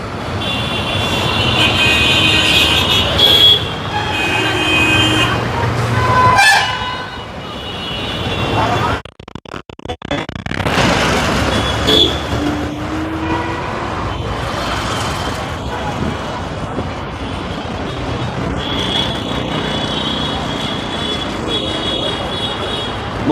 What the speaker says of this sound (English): So many traffic.